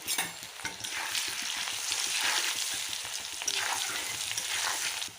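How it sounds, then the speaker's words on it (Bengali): Potatoes frying in oil with salt and turmeric give a steady, close sizzle, broken by frequent scraping stir strokes that run throughout without any talking. "একটু নুন দিলাম একটু হলুদের গুঁড়ো দিয়ে এটাকে লাল করে ভেজে নেব"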